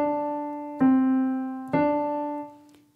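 Two single piano notes, C then D, struck one after the other a second apart, each ringing clearly and decaying alone, forming a major second interval.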